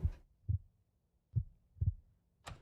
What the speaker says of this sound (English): Can you hear the heartbeat?